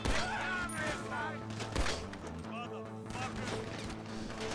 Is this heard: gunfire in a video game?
yes